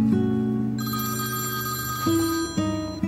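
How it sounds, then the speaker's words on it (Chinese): A telephone ringing indoors, a steady electronic ringtone with sustained tonal notes that shift pitch a couple of times, heard alone and fairly close. "对不起，我接个电话。"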